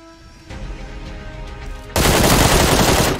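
Gunfire in PUBG Lite on PC: a short burst of shots, then a loud sustained automatic volley that fills the last second and a half, close and harsh, with no talking.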